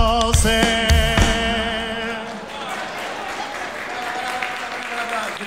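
Audience applause at a live comedy stage show, a dense wash of clapping that fades out after loud musical tones in the first two seconds.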